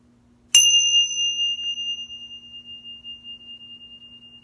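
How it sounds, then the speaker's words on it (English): A meditation bell is struck once near the start, a bright, clear tone that rings out and slowly fades over several seconds in a quiet room. "when I'm done ringing the bell"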